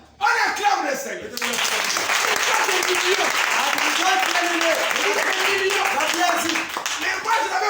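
A large crowd bursts into sustained applause after a brief opening, loud dense clapping that holds steady for several seconds with a few voices mixed in.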